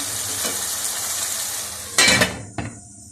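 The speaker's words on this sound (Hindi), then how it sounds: "अब मसाला भून लूँ अच्छी तरह, जैसे टमाटर जाके जान हो जाए" Masala and tomatoes frying in a pan, a steady sizzle broken by two quick clinks and scrapes of a spoon against metal, close and fairly loud, after which the sound drops away to near silence.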